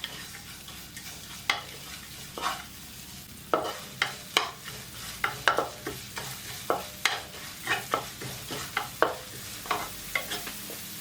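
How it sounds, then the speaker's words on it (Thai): Chili stir-fried in a pan until fragrant, a steady run of sharp spatula scrapes and taps against the pan over a faint sizzle, close and repeated at an irregular rhythm. "เดี๋ยวเราจะผัดจนส่งกลิ่นหอมสักเล็กน้อยก่อนนะคะ"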